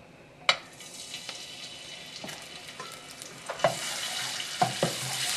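Ginger and garlic dropped into hot cooking oil over medium-high heat, a soft steady sizzle broken by sharp clacks of a utensil against the pan and brief stirring scrapes.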